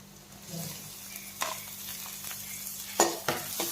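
Onion and capsicum stir-fried in a pan for desi momos, a steady sizzle with a few sharp utensil scrapes and clacks against the pan, close and alone with no talking.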